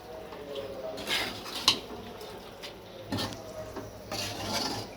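Beef pickle stirred in a pan with a utensil, giving intermittent scraping and clinking knocks of metal on metal, one sharper clack standing out, at a moderate level over a low background hum.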